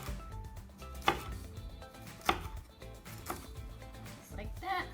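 A knife cutting small pieces for a breakfast burrito, with several sharp chops striking the board at an uneven pace, close and clear, while a voice talks softly in the background.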